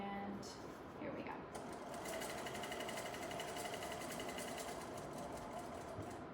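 A sewing machine runs steadily, stitching a patch pocket onto a pair of pants in one continuous, close whirring run, with a voice speaking quietly underneath.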